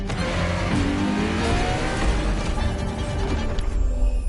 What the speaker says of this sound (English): La Ferrari is the first Ferrari we have with an hybrid engine.